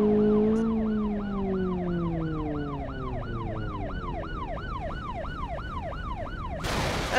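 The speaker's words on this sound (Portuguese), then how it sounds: "Depois dessa batida, a sirene ainda continua funcionando normal ainda." A wailing police car siren from the video game BeamNG keeps cycling in steady rising and falling sweeps after a crash, loud and alone, while a lower engine-like drone fades beneath it and a burst of noise cuts in at the very end.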